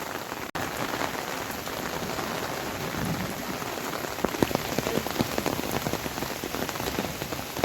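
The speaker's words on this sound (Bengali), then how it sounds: "বৃষ্টি হচ্ছে" Steady rain falls on surfaces near a riverside ghat in the Sundarbans, a dense, even patter with scattered louder drops throughout and no voices.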